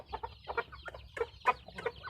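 Fighting cocks cluck in a quick series of soft, close, irregular calls, several overlapping bursts with brief gaps between them.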